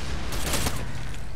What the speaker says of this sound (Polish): Jakie wybuchy są.